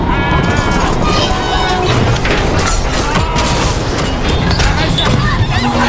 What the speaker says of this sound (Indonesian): 2 gerbong yang dilepas langsung meledak